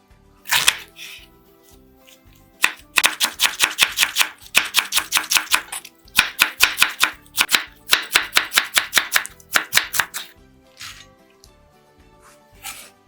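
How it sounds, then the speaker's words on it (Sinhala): A knife cuts through cabbage in quick, crisp, close chopping strokes, coming in several rapid bursts separated by brief pauses. "ඊළඟට ගෝවෙක් කපා ගමු"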